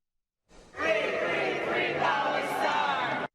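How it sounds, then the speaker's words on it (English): Crowd of masked pro-Palestinian protesters storming a library at Columbia University, chanting loudly together as the noise rises suddenly from near silence and holds steady, with a muffled thump of drums beneath. "crowds of masked pro-Palestinian protesters stormed the library, beating drums and chanting"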